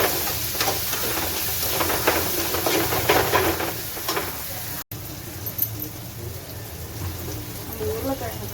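Tomatoes sauté in a pan with a steady close sizzle and crackle that runs throughout, while someone talks over it for most of the stretch.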